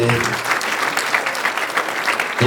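Guests at a wedding keep up a steady round of applause from start to end, and a voice can be heard faintly beneath the clapping.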